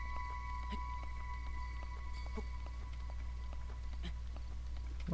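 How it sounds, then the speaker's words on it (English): Steady rain falls in Breath of the Wild, a constant even hiss with scattered soft drop ticks and taps throughout. "Are we done raining yet?"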